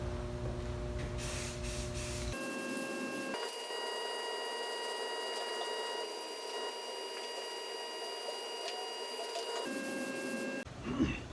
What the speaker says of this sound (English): Get this thing shot with some primer.